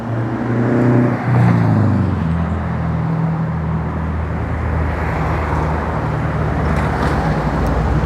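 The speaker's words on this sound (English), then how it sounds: "Traffic seems to be doing all right." Road traffic passing near a freeway, a continuous broad rumble with a louder vehicle swelling early on, then a steady wash of tyre and engine noise, close and fairly loud.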